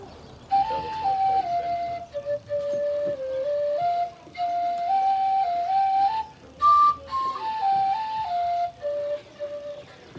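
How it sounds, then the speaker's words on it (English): A tin whistle plays a simple stepwise melody, clear and close, with short pauses between phrases and no voices. "It's called a tin whistle."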